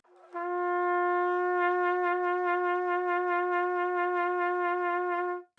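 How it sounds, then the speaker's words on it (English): A single sustained trumpet tone held for about five seconds, its pitch wavering in a steady, fairly wide jaw vibrato, played alone and clearly up close. "The first is jaw vibrato, where you gently move the jaw up and down to manipulate the pitch."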